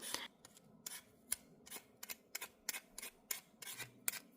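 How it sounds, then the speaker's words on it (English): A potato peeled by hand in a kitchen, giving a quick series of roughly a dozen crisp scraping strokes in a fairly even rhythm, close and quiet, with no voices. "I'm going to start by peeling the potato."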